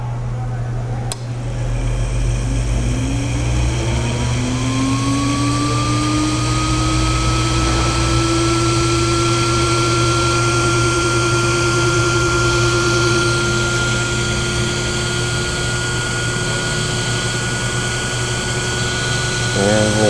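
An electric jig grinding attachment with a small adjustable spindle starts up; its motor whine rises in pitch over the first few seconds and then holds a steady, continuous tone over a constant background hum, with no talking.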